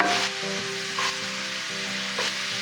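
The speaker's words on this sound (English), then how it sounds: "I'm going to keep stirring this around since most of the mushrooms have soaked in that" Mushrooms simmering in veggie broth in a pan are stirred steadily, giving a close, continuous sizzle with a few brief scraping accents and no talking.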